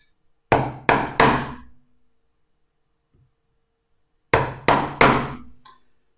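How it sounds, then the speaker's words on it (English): Chisel struck with a mallet to cut into wood for a small storage box: two sharp bursts of three close, loud knocks each, separated by a few seconds of silence. "And then chisel down, again the 2 or 3 millimeters for each one."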